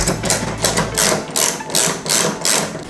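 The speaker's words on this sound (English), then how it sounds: "The next step is to remove these two T25 bolts." Removing T25 bolts from a BMW F30 taillight gives bursts of rapid mechanical rattling and ratcheting, close and fairly loud, repeating in several short pulses with a low hum underneath early on.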